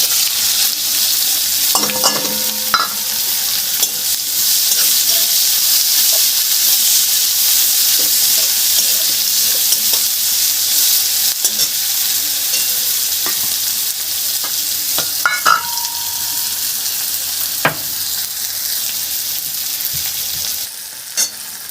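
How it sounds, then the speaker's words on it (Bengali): Onions fry with cumin in hot oil in a pan, a loud continuous sizzle and hiss with occasional stirring scrapes and clinks, close and without talk. "জিরে দিয়ে দিলাম, জিরেটা হয়ে গেছে, এবার পেঁয়াজটা ছেড়ে দিচ্ছি"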